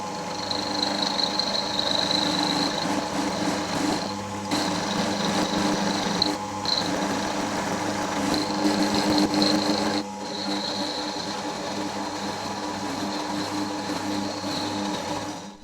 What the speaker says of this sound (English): The cutting fluid has clearly made a massive difference to the efficiency of how the end mill is performing.